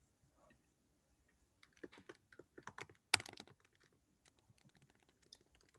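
Several people typing on computer keyboards in a classroom-style session, a quiet scatter of light key clicks that builds into denser bursts of rapid tapping, close and clear with no talking.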